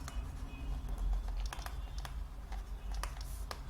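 Code being typed on a computer keyboard, a quiet run of irregular key clicks at close range over a low steady hum, with no talking.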